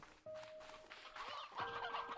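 Chickens in the game Slime Rancher 2, faint soft clucks and a brief higher call, short and quiet with no speech over them.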